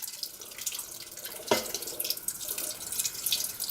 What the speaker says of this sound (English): I'm going to pour that in. And I'm going to add a cup of water.